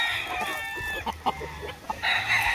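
A fighting rooster kept at a gamecock yard crows loudly near by, then gives a few short clucks, and ends with a second strained crowing burst.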